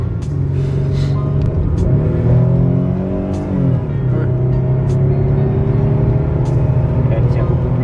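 Peugeot 406 V6 Coupé Pininfarina engine humming smoothly while driving, a steady mid-low drone with a gear change partway through, under a man's brief remark.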